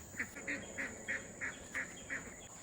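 Ducks on a Kentucky farm quack in a steady series of about eight short, evenly spaced calls, moderately close against a quiet outdoor background with no talking.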